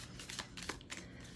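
Quick, crisp riffling of a deck of tarot cards being shuffled close by, a rapid burst of papery flutters.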